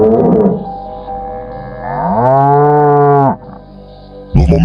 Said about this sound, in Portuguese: eu ouvi todas as vacas começarem a mugir ao mesmo tempo.